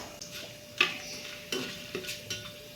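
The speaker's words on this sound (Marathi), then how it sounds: "दालचिनी लवंग काळी मिरी शहाजिरे आणि मसाले विलायची आपण टाकून घ्यायची आहे मसाला व्यवस्थित परतवून घ्यायचा आपल्याला" Whole spices and masala sautéing in a pan for chicken biryani, a faint sizzle under repeated spoon scrapes and taps, close by with no voices.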